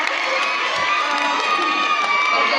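An audience at a beach cleanup event cheers and claps for a volunteer, a loud, continuous wash of crowd noise with shouting, young-sounding voices over the applause.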